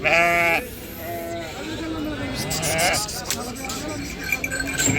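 Sheep bleat in loud, wavering cries at a crowded livestock market in Macherla, with a strong call at the start and more bleats overlapping a steady hubbub of people talking.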